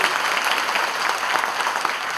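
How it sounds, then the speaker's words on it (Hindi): Loud, dense applause from a crowd at an event where a comedian visits children with thalassemia, continuous and close for about two seconds with no break. "जोरदार तालियां अपने लिए बजा दीजिए।"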